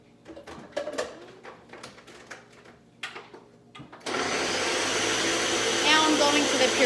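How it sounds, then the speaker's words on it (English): Blender pureeing avocado chocolate pudding starts abruptly partway through and runs as a loud, steady motor whir with coarse churning. Before it come scattered clicks and knocks of handling. "I'm going to the puree setting now that everything has been blended."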